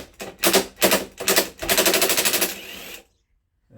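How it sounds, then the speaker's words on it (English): Impact gun rattling off the flywheel nut on a 2005 KTM SX 85 engine: loud, rapid hammering bursts, two short and one longer, then it cuts to silence. "to take the flywheel off, I'm going to use an impact gun because they can be hard to get off otherwise"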